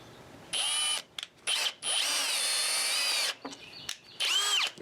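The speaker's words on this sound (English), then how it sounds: "But you do need your drill spinning in the right direction to drill a hole." A power drill bores into purpleheart wood in several loud whining bursts, the motor rising and stopping between short pauses, close up.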